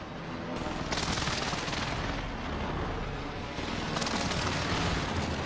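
Video game gunfire sounding as a dense, continuous rattle of shots with booming low rumble, surging louder in two bursts, with a faint voice partly under it.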